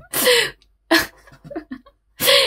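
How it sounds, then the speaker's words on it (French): A small dog makes bursts of sharp snorting, sneeze-like noises close by, three strong blasts separated by quieter snuffles and sniffs. "c'est mon petit chien qui fait des bruits bizarres. Alors je sais pas si elle éternue"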